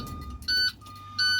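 A school bus's child safety check alarm gives two short electronic beeps, evenly spaced over a low idling engine hum, heard close inside the bus with no talking.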